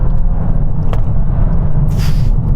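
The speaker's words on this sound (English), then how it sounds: "So I'm just pootling along at 40. I'm going to accelerate in 3, 2, 1, go." A Volkswagen Golf R floored from about 40 mph to overtake, its engine and road noise a steady, loud low rumble that builds with a brief whoosh near the end, with no talk.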